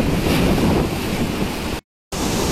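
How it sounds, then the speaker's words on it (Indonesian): Rough sea waves in the Sunda Strait during a port crossing, a continuous loud wash of surf and wind buffeting, cut by a brief dropout near the end. "dengan kondisi ombak yang lumayan mencengkam"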